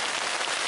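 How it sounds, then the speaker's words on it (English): Torrential rain drumming on a fishing shelter during a southerly gale, a loud, dense, constant hiss of drops with no gaps, heard close and alone. "the rain is absolutely torrential"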